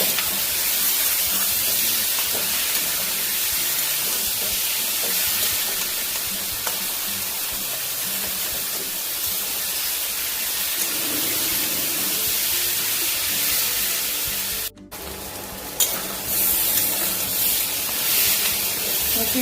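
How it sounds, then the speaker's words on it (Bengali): Masoor lentils and fried potatoes fry in a pan, a continuous loud hissing sizzle that holds steady, with a brief break near the end before resuming. "ভেজে রাখা আলুগুলো দিয়ে দিচ্ছি ভালো করে মুসুর ডালটা ভেজে নিচ্ছি"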